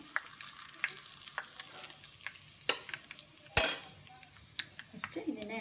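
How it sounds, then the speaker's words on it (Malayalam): Drumstick (muringa) leaves fry in oil with a soft, intermittent crackle and scattered pops, while a utensil clinks and scrapes against the pan now and then, one sharper clatter standing out midway. "എന്തായാലും ഇതൊന്ന് തിരിച്ചിട്ട് മറ്റേ ഭാഗം കൂടെ വറുത്ത് കൊടുക്കും."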